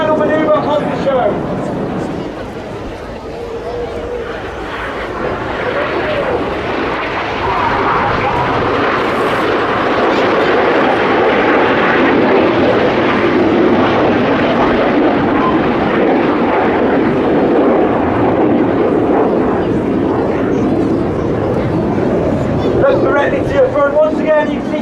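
Red Arrows RAF jets roar through an aerobatic display at Blackpool Air Show, a loud sustained rushing jet noise that swells and holds, heard from the ground with a commentator talking over it.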